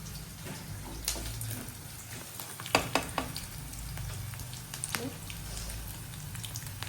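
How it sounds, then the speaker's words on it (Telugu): Turmeric stirred into a sizzling oil tempering with curry leaves gives a steady, close frying hiss with crackling pops and a few sharp spoon scrapes and clicks against the pan, with no talking. "ఒక స్పూన్ పసుపు వేస్తున్నానండి. పసుపు వేసి కలుపుకోవాలి."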